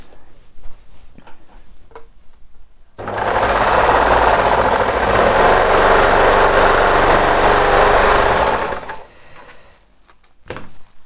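A sewing machine stitches a tee shirt seam in one steady, loud run of about six seconds, with quieter handling sounds before and after.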